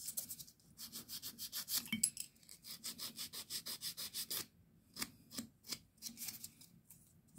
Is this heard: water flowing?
no